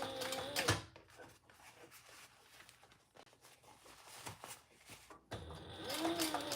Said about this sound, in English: We're going to top stitch across that